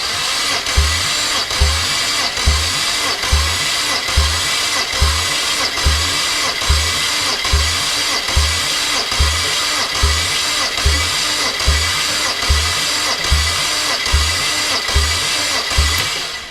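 A BMW N54 twin-turbo six in a 335i is cranked on the starter during a compression test on cylinder 4, giving a loud, steady, even chug of roughly eighteen rhythmic turns over sixteen seconds with no voices.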